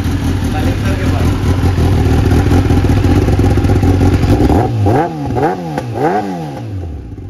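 Sport motorcycle engine, compared against a Ninja 1000, idling loudly up close and then revved in several sharp rising-and-falling blips near the end.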